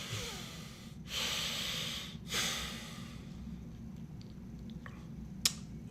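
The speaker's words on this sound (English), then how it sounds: "please join me in taking a little breath" Breath taken together before prayer, two long audible inhales and exhales close to the microphone, soft and airy, followed by a quiet pause with a sharp click.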